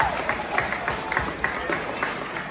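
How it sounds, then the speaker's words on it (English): An audience at a Johnny Magic winter wonderland magic show claps for a volunteer, a steady, fairly loud patter of many hands running throughout with some crowd noise mixed in. "let's give Tracy a nice big round of applause"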